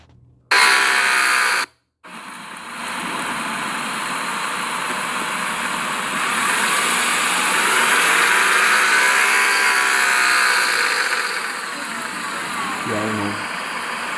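A used car's 2.0 engine idles steadily after a brief start, settling into a continuous hum with a faint whine, rising slightly as it is revved, heard up close.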